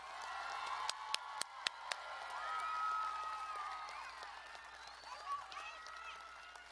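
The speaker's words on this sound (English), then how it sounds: "Would you please join me in giving these graduates a big round of applause?" An audience at a high school graduation claps for the graduates; a few sharp claps ring out first, then scattered applause and crowd murmur swell under voices and fade, fairly distant and modest in loudness.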